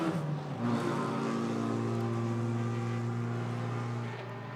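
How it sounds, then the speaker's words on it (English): A race car slowing on a circuit's back straight, its engine note dropping in pitch then settling into a steady low drone, moderately distant and continuous, with no voices. "Got a car slowing on the back straight."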